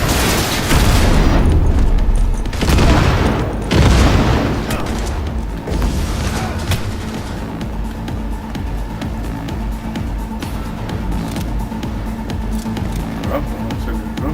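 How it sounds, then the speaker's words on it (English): Explosions and gunfire from a firefight in the video game Cyberpunk 2077: two or three heavy booming blasts in the first few seconds, then sustained rumbling combat noise with scattered shots continuing underneath. "Fucking grenade!"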